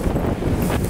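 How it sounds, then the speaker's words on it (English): Strong gusts batter the microphone beside the Columbia River, a dense, loud, unbroken rumble lasting under a second with no voice. "But damn, it's windy down here."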